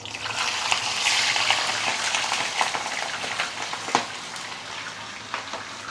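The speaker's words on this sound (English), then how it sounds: "then we can actually slowly put in the fish" Pomfret fish fries in smoking-hot oil, producing a dense, fairly loud crackling sizzle with occasional sharper pops and spatters, no speech.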